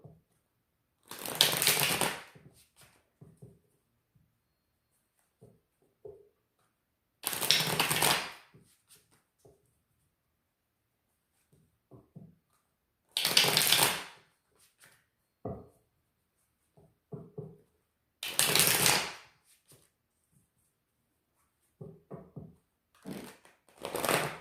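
Tarot cards being shuffled in four separate bursts of rapid riffling, each lasting a second or two, with quiet handling and faint taps in the pauses between.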